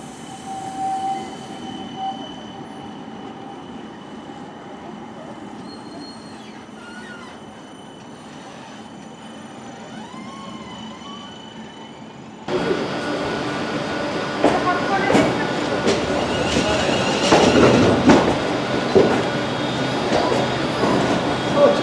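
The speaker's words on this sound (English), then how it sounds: "we're now moving to Bull Street tram stop to see a tram departing" A tram departs Bull Street tram stop, first a quiet hum with whining tones, then a sudden louder rumble of wheels and rolling stock with squeals, close by and steady, with no talking.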